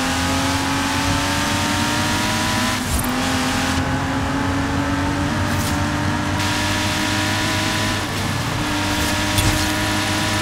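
Loud, close engine of a car lapping an oval track at speed in Forza Horizon 4, a sustained high-revving howl that wavers slightly with gear and throttle changes, steady throughout with no talking.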